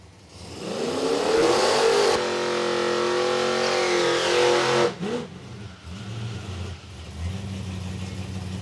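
Dodge Ram drag racing truck at Palmyra Raceway, Australia, its engine revving hard and holding a loud roar for a few seconds, then cutting off abruptly and settling into a lumpy idle.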